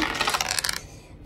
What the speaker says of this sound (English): Now we're gonna roll the dice for Natalie.